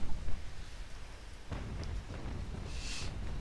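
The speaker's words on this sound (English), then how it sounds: "it's coming down like crazy right now outside. I think I can even hear hail." A heavy rainstorm pours down outside, a dense, continuous hiss with a low rumble and scattered sharper taps, heard steadily from indoors without any talking.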